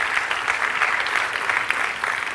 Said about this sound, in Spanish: Dale un aplauso.